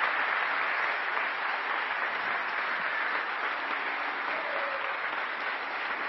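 Sustained audience applause in a council chamber during an honorary citizenship ceremony for pastors and a military police commander, an even, dense patter of many hands with no voices on top.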